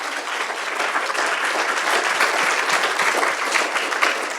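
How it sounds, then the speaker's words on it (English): An audience at a political rally claps in a sustained, dense round of applause that stays steady and loud throughout, with no voices standing out. "a massive round of applause for Louise"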